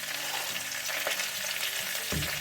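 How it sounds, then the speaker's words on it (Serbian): Fresh spinach fries in a small pan with onion and garlic, a steady close sizzle and crackle broken by a few louder stirring scrapes and bursts as the leaves are moved. "i krenuti naravno posle da ga pržim i dinstam sa crnim i belim lukom"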